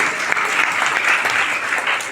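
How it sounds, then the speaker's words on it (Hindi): Dense, loud applause from a seated audience at a Hindi-language community gathering of goldsmiths in Agra, continuous clapping for about two seconds without speech. "तालियां हो जाए इनके लिए एक।"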